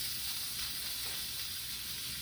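A Power Pro XL pressure cooker cooking applesauce lets out a steady, loud hiss of steam during quick release, continuous and unbroken with no voices.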